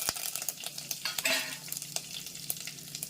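Mustard seeds spluttering in hot oil with curry leaves for sambar, producing a soft continuous sizzle with scattered sharp pops and crackles, close and fairly quiet.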